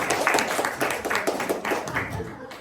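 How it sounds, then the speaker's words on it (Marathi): Applause from an audience at a Diwali evening cultural programme: a steady, dense patter of many hands clapping together, fairly close and moderately loud, fading slightly toward the end. "सगळ्यांनी एकदा परत टाळ्या वाजवून त्यांच्या या प्रवासाला शुभेच्छा दिल्या"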